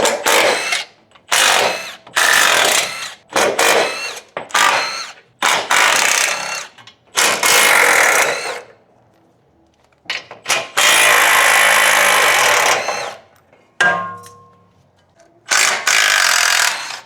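Power tool bursts driving 14 mm and 19 mm bolts off the front brace and caster arm brackets beneath a Nissan 350Z, a rapid series of loud close whirring runs with short gaps, including one long sustained run.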